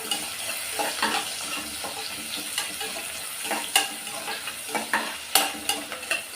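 Long-sliced onions sautéing in a pan while being stirred, with a steady sizzle and repeated spatula scrapes and knocks that grow sharper toward the end; no voices.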